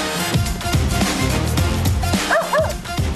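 Four dogs being fitted with harnesses bark, yip and whimper excitedly, close and loud in repeated bursts, with a person briefly heard among them.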